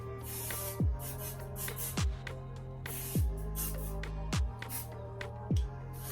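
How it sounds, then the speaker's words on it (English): Several short hissing bursts of hair finishing spray at irregular intervals, close and fairly loud, over steady background music. "So I'm just gonna spray it kind of everywhere."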